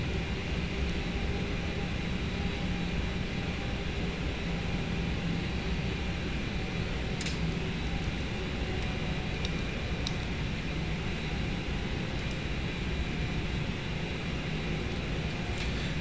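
Airbus A320 engines idling before departure at Queenstown in a flight simulator, a steady broadband roar held at even loudness throughout with faint clicks, no talk.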